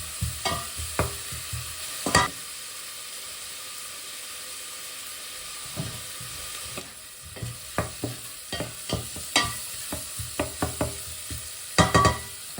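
Onions and garlic sweating in a pot while being stirred, with scattered scraping and clinking strokes over a low steady sizzle, no talking.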